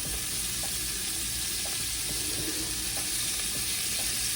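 Scallops searing in butter in a pan, a steady hissing sizzle with light crackles and a few soft stirring taps, close and without talk.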